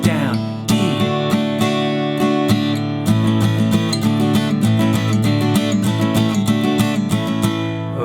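Strummed guitar plays the first line of a song, a driving pattern of down and up strokes with crisp chord attacks and a brief chord change, heard close and alone.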